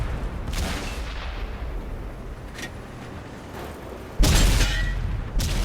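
Deep booming cannon shots from tanks in World of Tanks, an IS-7 battle, rumble over a low engine drone, with a couple of faint distant reports and one loud close blast near the end.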